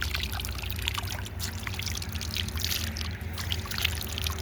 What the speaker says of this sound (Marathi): बघा कसं जुळू वाहतं पाणी